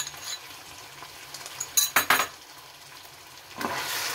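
Mutton being stirred with yogurt and black pepper in a cooking pot, with a few close clinking scrapes of a utensil against the metal and a soft sizzle underneath, no talking.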